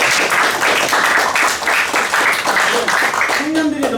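Loud, dense clapping from an audience at a youth policy meeting in Namwon, continuous and close throughout, with a voice emerging faintly near the end.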